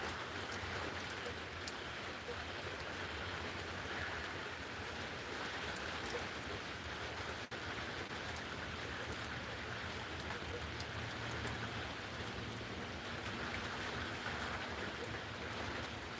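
Steady rain falls through a dark, windy night storm, a dense unbroken wash of patter that stays even and moderately faint throughout.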